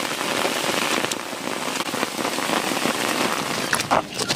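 Heavy rain pours down steadily during a river fishing trip, a dense, continuous hiss of drops beating on surfaces with occasional louder splatters close by, and no voices.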